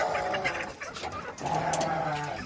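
Chickens cluck and call nearby in a farmyard, a few short bursts of clucking with brief pauses between them, moderately loud and with no talk over them.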